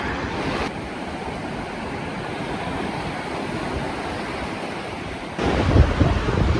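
Surf rolls onto the beach at Tsilivi, Zakynthos in Greece, a steady rushing wash mixed with wind buffeting the microphone, swelling louder near the end.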